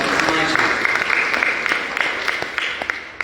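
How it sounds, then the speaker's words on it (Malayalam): An audience at a Malankara Catholic Association gathering in Thiruvalla claps for Benjamin Achan and Jomon's team, with scattered sharp hand claps over a steady murmur and voices. "വലിയ ഒരു കൈയടി നമുക്ക് കൊടുക്കാം."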